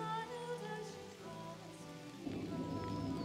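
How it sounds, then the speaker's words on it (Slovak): Rain falls on a forest trail beside the Hornád river in Slovak Paradise, a soft, continuous patter on leaves and ground that thickens into a denser hiss toward the end. "Bohužiaľ nám počasie nevydržalo a začalo pršať."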